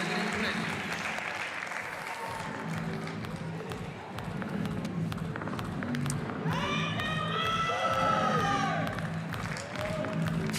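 A crowd at a judo Grand Prix finals in Portugal applauds and cheers loudly and continuously, with shouts rising over the sustained clapping and a commentator's voice heard over it.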